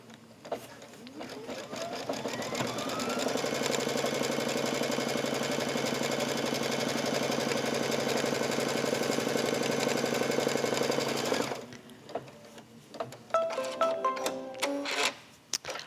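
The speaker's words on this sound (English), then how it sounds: "I'm going to lower the foot and get this border piece stitched on" A sewing machine runs steadily for about eleven seconds, stitching a border piece onto a pillow with a fast, even mechanical whir, then stops and a few clicks and handling noises follow.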